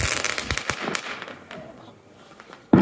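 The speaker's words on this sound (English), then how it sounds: "There was just a very big firework over there." A burst of firework explosions and crackling pops at an outdoor Fourth of July display, loud and close at the start, then fading into quieter distant bangs before one sharp final blast.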